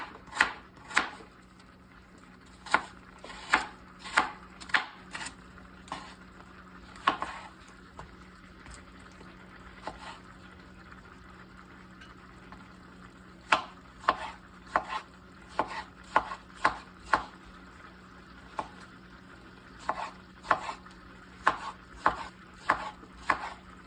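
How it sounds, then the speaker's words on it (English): Tomatoes are chopped into small pieces for a chicken karahi, giving crisp, close knife taps on a board in irregular bursts of quick strikes with short pauses, fairly quiet. "I'm gonna go ahead and chop our onions as well and our tomatoes"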